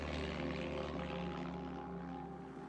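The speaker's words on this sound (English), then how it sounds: "Light planes take off from makeshift airstrips, flying contraband across the border." A light propeller plane taking off from a makeshift airstrip near the Mexican border, its engine a steady, droning roar that fades slightly toward the end.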